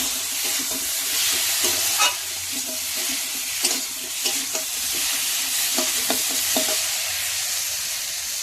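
Cumin, ginger and chili paste frying and sizzling in a pan in a village kitchen, with steady hissing broken by repeated scraping and knocking of a spoon as it is stirred.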